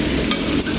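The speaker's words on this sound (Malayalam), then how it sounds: "ഇനി നമ്മളതിലേക്ക് 2 തക്കാളി അരിഞ്ഞതിട്ട് കൊടുക്കുന്നുണ്ട്" Chopped tomatoes drop into a masala frying in a pan for a Kerala-style tilapia biryani, giving a steady close sizzle with stirring scrapes and no talk.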